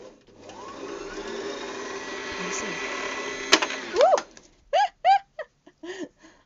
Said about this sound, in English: Some people really like the noise of the sewing machine.